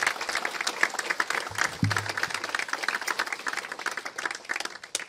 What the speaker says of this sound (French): une bonne main d'applaudissements, tant pour les diplômés de premier cycle que ceux de cycle supérieur